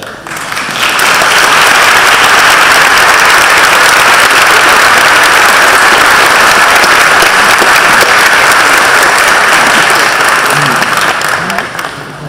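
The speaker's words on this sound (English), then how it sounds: "join me in a round of applause for everyone here today" Sustained audience applause fills a Metro South Chamber of Commerce 105th annual meeting as board members stand, loud and steady for about twelve seconds before tapering off.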